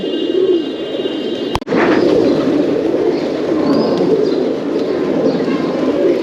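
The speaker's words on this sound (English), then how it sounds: "A lot of pigeons though." A large flock of pigeons coos continuously at a temple square in Patan, Kathmandu Valley, a dense low burbling close by that fills the whole stretch, with one sharp click near the start.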